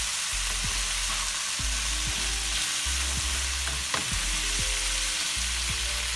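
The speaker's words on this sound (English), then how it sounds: "I'm gonna add in my tofu at the last minute. Let that oil, sauces, all blend up in it." Tofu frying in hot oil and sauces in a pan, a continuous close sizzle and crackle with scattered pops and clinks of stirring throughout, no voices.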